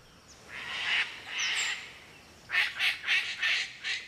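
A parrot in an Australian rainforest gives harsh squawking calls: two drawn-out screeches, then a quick series of five shorter rhythmic squawks, fairly clear over quiet forest background.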